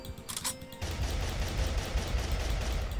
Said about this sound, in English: I'm just shooting off in random direction.